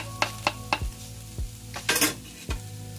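Cashew nuts sautéing in a pan, a soft steady sizzle broken by several sharp scraping knocks of a spatula stirring against the pan, close and clear with no voices.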